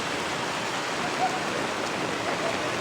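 Floodwater gushes and roars steadily nearby in a village, a dense rushing hiss like a strong fountain that holds without a break.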